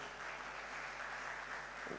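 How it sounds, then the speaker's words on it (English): A conference audience gives a round of applause for the speakers, a dense, steady wash of many hands clapping, faint and distant in a large hall, continuing throughout. "can I have a round of applause for all our speakers?"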